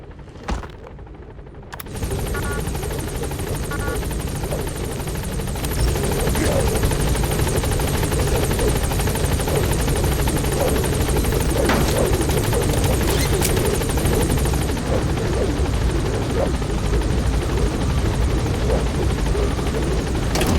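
In the Metal Gear Solid V video game, a helicopter's rotor roar starts after a short quiet moment and then continues loud and steady, with dense chopping throughout and some sharp cracks in the mix.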